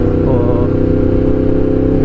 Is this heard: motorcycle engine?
yes